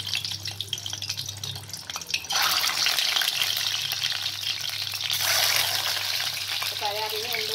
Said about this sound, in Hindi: पहले इनको मैं फ्राई करूँगी।